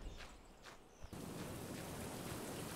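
Steady rain falling outside a home, a soft dense hiss of drops on surfaces that swells abruptly into a heavier, louder downpour partway through, with a few light thumps before it and no voices.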